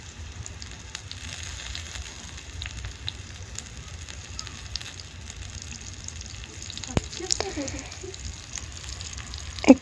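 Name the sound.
chicken leg pieces frying in a pan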